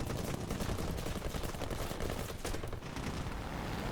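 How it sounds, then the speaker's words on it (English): Aircraft machine guns rattle in rapid continuous bursts during a dogfight game against a Spitfire, loud and steady over engine drone. "And we're down to just our machine guns."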